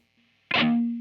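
A Gibson Firebird X electric guitar played through a distortion effect with reverb, as one loud chord struck after near silence and left ringing with a sustained buzzing tone that slowly fades.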